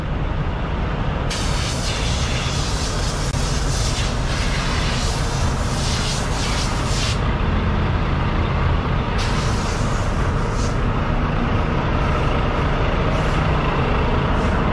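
Heavy trucks idle and rumble loudly at a Love's truck stop in Wichita Falls, Texas, with a steady diesel drone and long hissing bursts of air brakes, and no talking.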